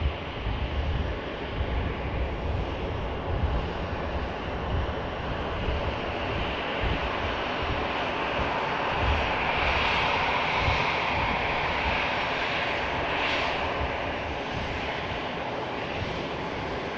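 An EasyJet airliner, just in from Belfast, rolls off the runway at Manchester Airport, a continuous rushing engine rumble with a faint rising whine, moderately distant and steady throughout, no voices.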